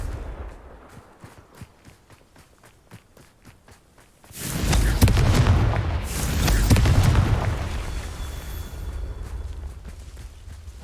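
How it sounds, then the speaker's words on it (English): A Confringo blasting spell in a wizard video game erupts into a loud, rumbling explosion that swells and rolls on for several seconds, following a stretch of quiet, rhythmic footsteps. "Confringo."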